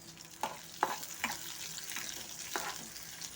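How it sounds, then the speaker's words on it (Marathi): Onions frying in oil in a pan with curry leaves. A soft, constant sizzle runs underneath while a spoon scrapes and stirs in a few distinct strokes, close by and with no one talking. "कांदे टाकून असं मिक्स करून घ्यायचं आहे तेलामध्ये छान"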